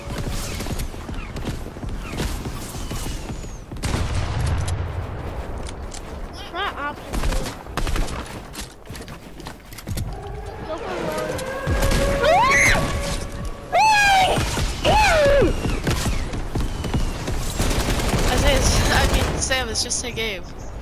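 Fortnite Zone Wars match with frequent gunshots and bursts of fire mixed with building creaks and mechanical clatter, loud and busy, while players talk over the action.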